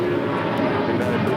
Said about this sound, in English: This departure is Delta 677 taking off to Boston. 757-200.